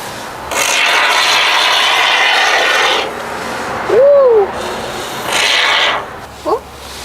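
A can of Great Stuff gap-filler foam sprays in two hissing bursts while insulating the curved walls of an Express van, close by, with a short whistle-like voice sound between the bursts.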